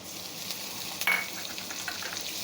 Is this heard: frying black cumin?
yes